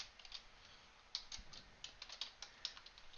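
Faint computer-keyboard typing while code is entered in the VS Code editor: scattered, irregular soft key clicks, a few slightly sharper taps, over a quiet hiss with no talking.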